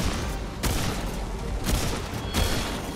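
Bursts of gunfire ring out in the video game Remnant 2, several loud shots and a short volley spaced about a second apart over a dense, noisy game background.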